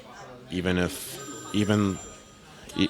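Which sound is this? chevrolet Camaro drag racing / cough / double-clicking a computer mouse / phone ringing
phone ringing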